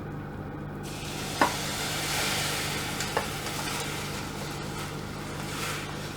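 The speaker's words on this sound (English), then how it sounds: "We just give this a stir around so that the rice and everything is evenly distributed" Rice being stirred in simmering stock for a bacon and mushroom risotto, a steady soft bubbling hiss with a few scraping clicks from the spoon, close and alone without talk.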